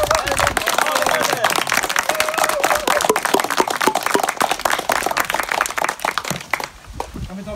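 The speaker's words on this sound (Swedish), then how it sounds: "Så jättestor applåd." A large audience breaks into lively applause at a Swedish course on the Härjedal pipe, crisp individual claps over a full crowd sound, with some voices mixed in before it thins out near the end.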